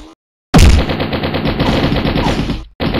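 Gunfire in the mobile video game Mini Militia, a loud close burst of rapid automatic shots lasting about two seconds after a brief silence, then starting again.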